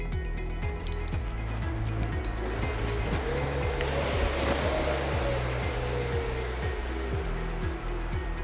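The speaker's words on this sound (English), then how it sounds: "As soon as you hit 700, stop paddling and allow the flywheel to free fall to stop." KayakPro kayak ergometer flywheel freewheeling down after paddling stops, a steady close whir with a faint wavering tone and regular soft ticking throughout.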